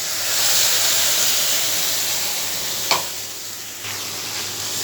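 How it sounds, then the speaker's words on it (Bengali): Spice paste frying with browned onions in oil, a steady close sizzle and hiss that holds evenly throughout, with a single brief scrape of a stirring utensil midway and no talking. "এরকম করে মাখা মাখা করে ভেজে নিচ্ছি, ভালো করে কষিয়ে নিচ্ছি"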